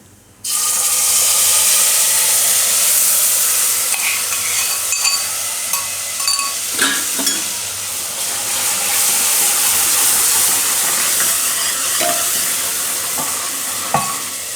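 Ground spice masala with turmeric and coriander-cumin powder fries in oil over a low flame, a loud, close, continuous sizzle that starts abruptly, with intermittent scraping and knocks of a stirring spoon and no voices.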